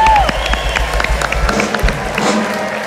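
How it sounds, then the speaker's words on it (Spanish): Studio audience applause and cheering welcome a contestant onto a stage, mixed with a brief whistle-like tone at the start and some crowd commotion throughout. "vamos a recibirla con un fuerte aplauso"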